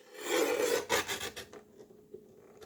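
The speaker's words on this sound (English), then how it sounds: "Right now, we're just going to trim off the excess" Excess paper being trimmed while making a gift bag, producing close, rasping scraping and rubbing strokes that fade into a few faint scuffs, with no voices.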